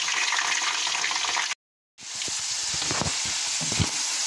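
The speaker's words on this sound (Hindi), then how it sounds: "अब 2 से 3 मिनट ऐसे फ्राई होने देना, जब क्रिस्पी हो जाएगी फिर निकाल लेंगे" Dal frying in hot oil in a pan until crisp, a loud, dense, continuous sizzle close up, cut by a brief silent gap, then resuming with crackling pops and spatters.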